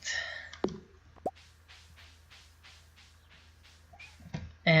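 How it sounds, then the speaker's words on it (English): Crickets chirping outside a window at night give a faint, steady run of evenly spaced pulses, with a few sharp clicks and taps at the start and end. "And I don't know if you guys can hear the crickets outside my window."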